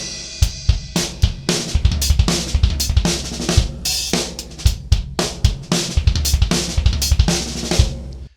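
Drum kit playing one bar of steady groove followed by a one-bar fill, loud and close. Sharp kick, snare and cymbal hits in a driving rhythm run for about eight seconds with no voice.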